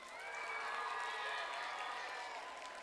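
An elementary school audience at a fifth-grade Christmas chapel cheers and applauds steadily for the red team, a dense wash of clapping and voices that fills the room for the whole stretch.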